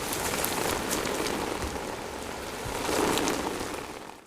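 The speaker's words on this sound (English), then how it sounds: "Amidst the pouring rain, Miyuki almost gave up." Steady pouring rain in the visual novel game Color Me True, a dense continuous hiss of drops hitting surfaces that swells slightly near the end, with no voices.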